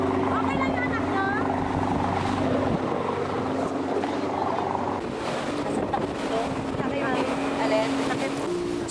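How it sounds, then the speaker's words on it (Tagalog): A boat riding through very strong waves at open sea: a steady engine drone, wind buffeting the microphone, and rushing water run throughout at close range. "Sobrang lakas ng alon."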